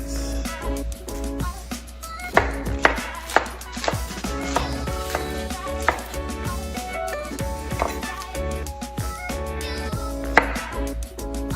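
Scallions chopped with a knife on a cutting board, a brisk run of sharp, close knocks in an uneven rhythm, some strikes louder than others, heard alone without talking.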